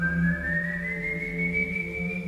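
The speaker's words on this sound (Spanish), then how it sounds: "Su espantoso silbido es sinónimo de muerte y desgracia." A single long, eerie whistle of El Silbón, the legendary ghost of the plains, holding a thin tone and slowly rising in pitch, alone over a faint low hum.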